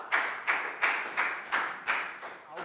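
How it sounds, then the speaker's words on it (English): A few slow, evenly spaced claps in a primary-school maths classroom, six distinct hand claps in a steady rhythm at a soft, close level. "Big round of applause for Pat,"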